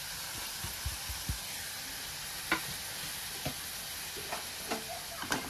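Moth bean sprouts tumble into a frying pan and are stirred, giving a steady sizzling hiss with scattered scraping knocks of the spoon against the pan, close and fairly quiet, with no voices.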